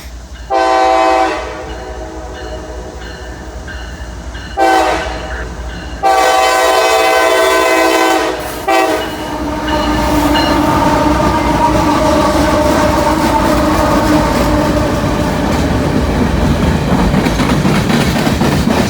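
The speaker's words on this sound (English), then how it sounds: "Another empty coal train." An empty coal train rolls past at a westbound crossing, its horn sounding first in several blasts, then a loud, steady rumble and clatter of wagons running on alone.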